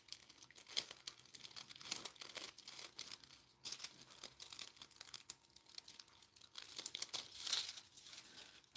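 Paper cut with scissors for a collage: soft, quiet crinkling and snipping at close range in irregular bursts, with no one talking.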